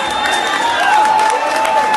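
Audience applause and cheering for a singer at a live samba performance, a steady dense wash of clapping and crowd noise held at even loudness throughout, with sustained tones ringing above it.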